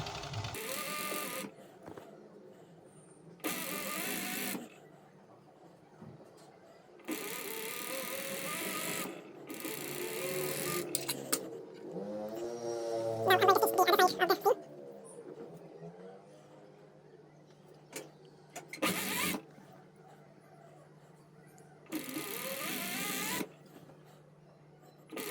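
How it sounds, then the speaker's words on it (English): Domestic sewing machine stitching the side seam of a homemade t-shirt, running in several separate bursts of steady mechanical whirring with short pauses between them, close and fairly loud. "this is where I'm stitching my side seam right now"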